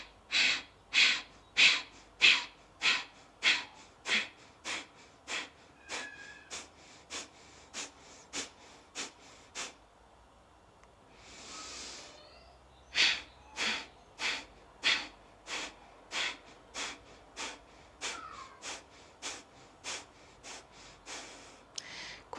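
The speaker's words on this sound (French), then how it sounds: "je vais prendre des toutes petites expires un petit peu saccadées pour venir serrer le nombril à la colonne" Rapid, forceful breaths pushed out through the nose during a core-engaging breathing exercise, about thirty sharp puffs in a steady rhythm, paused briefly midway by one longer breath, then resuming, close and loud with no talking.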